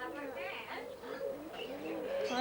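A parrot at a snake and bird park makes warbling, cooing vocalizations that blend with other bird sounds and people talking in the background.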